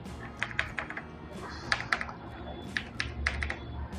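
Keys clatter on a computer keyboard while typing in MS Word, with quick bursts of clicks and brief pauses, close and fairly crisp, alone without talk.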